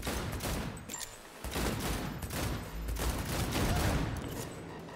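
Sustained gunfire bursts in Cyberpunk 2077, dense and continuous shots under a busy game mix, with little talk.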